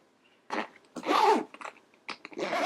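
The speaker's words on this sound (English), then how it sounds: "And then it just zips on up." A travel makeup station bag being zipped closed, with several short, close zipper pulls and rustling bursts separated by brief pauses, no voices.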